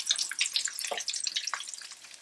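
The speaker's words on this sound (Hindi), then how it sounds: "तो इसे मैं यूँ फ्राई करती हूँ" Steady crackling and sizzling of aloo tikki potato patties frying in hot oil, with dense spitting pops throughout, fairly quiet and without any voices.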